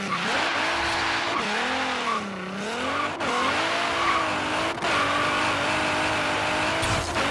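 A 1000-horsepower, GT-R-engined 1990 Renault Alpine GTA in a racing video game screams hard under acceleration, its engine note climbing through gears with brief dips at shifts and tire squeal, loud and continuous.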